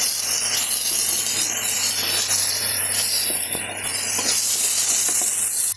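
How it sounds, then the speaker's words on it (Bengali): Spices are stirred into a vegetable curry in a hot pan, a continuous sizzling hiss with scraping and rubbing from the utensil, close and fairly loud throughout. "ভালোভাবে তরকারির সঙ্গে মিশিয়ে নেওয়া হচ্ছে মশলাগুলো।"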